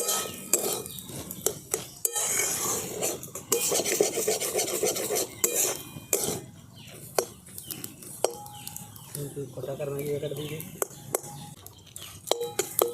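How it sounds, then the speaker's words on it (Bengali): A spoon scrapes and clacks in a pan while Maggi masala and filling ingredients are mixed together for an oil-free snack, irregular close rubbing and tapping strokes with a voice briefly heard. "এবার সমস্ত কিছু আমি একসঙ্গে খুব ভালো করে মিশিয়ে নিচ্ছি।"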